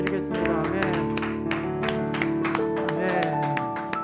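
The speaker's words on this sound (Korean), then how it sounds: "하나님께 영광의 박수 올려드리겠습니다." A church youth congregation clapping in steady rhythm over music and singing, crisp hand claps repeating at an even pace close by.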